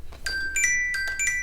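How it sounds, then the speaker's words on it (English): A phone alarm chimes in short bright bursts, several quick tonal beeps in an uneven repeating pattern over faint room noise, close and moderately loud. "That's my alarm to remind me to post on Instagram."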